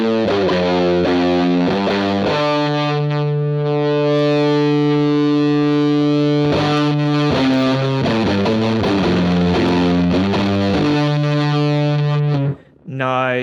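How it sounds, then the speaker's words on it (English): An electric guitar played through a bass fuzz pedal rings out in thick, sustained distorted chords and held notes, loud and continuous, with a brief drop near the end. "Maybe we'll try a bass fuzz"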